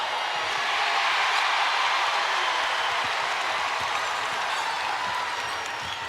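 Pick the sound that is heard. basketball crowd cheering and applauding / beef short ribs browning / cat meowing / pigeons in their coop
basketball crowd cheering and applauding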